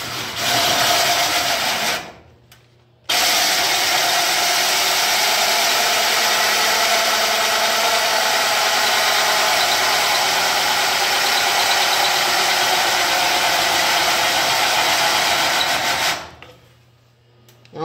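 Drill spinning a dull, wobbly hole saw grinds into the body of a 1970 car, a loud continuous rasping whine running for long stretches and stopping abruptly twice.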